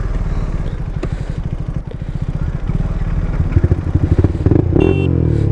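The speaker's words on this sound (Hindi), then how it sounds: "तो गाइज अपने पास आ गई है MT-15 एंड KTM Duke 390" A Yamaha MT-15 and a KTM Duke 390 idle and rev close by before a drag race, engines thumping with a rapid pulsing beat that builds louder toward the end, with faint voices in the background.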